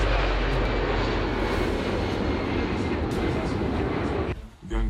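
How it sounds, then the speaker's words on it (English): Aircraft performing a touch-and-go landing at the Slovak International Airfest, a loud, steady broadband engine roar held close for several seconds before dropping away abruptly at the end, with a voice faintly underneath. "A teraz uvidíme touch and go, zadýmenie, roztočenie kolies."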